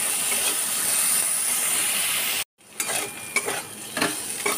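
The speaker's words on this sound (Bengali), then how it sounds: "অল্প লবণ, অল্প হলুদ দিয়ে আমি সমস্ত কিছুকে একটু ভেজে নেব।" Vegetables, including long beans, fry with salt and turmeric in a pan: a loud, steady sizzle breaks off abruptly, then quieter frying with sharp clicks of a utensil stirring.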